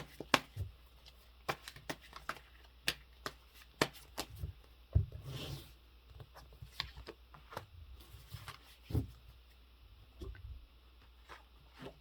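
Tarot cards are shuffled by hand in a quiet room, giving soft scattered riffles, flicks and taps close by, irregular and fairly faint, with no talking.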